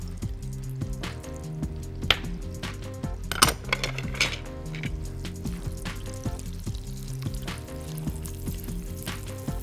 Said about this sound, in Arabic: هاخد الزبده هنزل بيها تبتدي تسيح، وهنزل بشويه من زيت الزيتون عشان ما تتحرقش